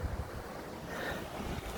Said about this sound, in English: it's got really fucking windy